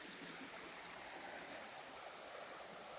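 Creek water flows steadily at Hetty Creek along the Pinhoti Trail, a continuous broadband rush and trickle that holds evenly from start to end with no voices.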